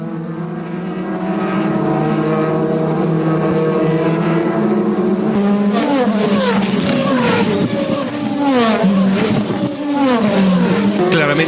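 DTM race cars from Mercedes and Audi roar past at Zandvoort, loud engines rising and falling in pitch as several cars sweep by in succession.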